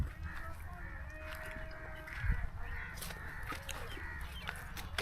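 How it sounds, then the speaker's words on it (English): Birds, likely crows, calling near guava fields in rural Pakistan, with several short caws and calls scattered over a low rural background. "I think we found some birds"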